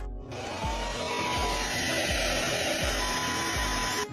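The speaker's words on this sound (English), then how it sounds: "we'll use a blower to air them out for 2 or 3 days to dry out every bit of moisture inside" An air blower runs into a flood-damaged BMW X5 differential and transfer case, a steady rushing whir with a faint rhythmic low thump underneath, continuous and fairly close.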